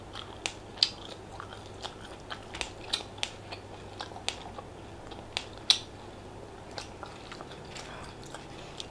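Close biting and chewing of cooked snake meat, sharp crunchy bites and tearing snaps repeating irregularly over a quiet background, with no talk.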